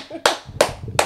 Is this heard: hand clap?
yes